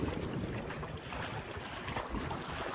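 A sailing dinghy cruising under way, with steady wind buffeting and rushing water around the hull forming a continuous broadband wash, fairly loud and unbroken, with no voices.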